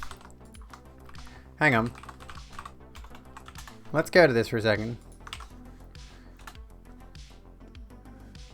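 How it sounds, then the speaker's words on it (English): Computer keyboard keys clatter in quick, uneven bursts during a touch typing game, close and crisp, while someone talks briefly over the typing. "It's technically a touch typing challenge."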